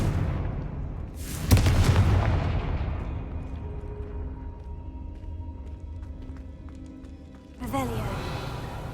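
Confringo blasting spell in the video game Hogwarts Legacy, a loud booming explosion that decays over several seconds, then a second blast near the end.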